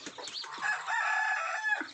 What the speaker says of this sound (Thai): ผมมีลูกไก่บ้านเยอะตอนนี้ผมกำลังทำฟาร์มไก่บ้าน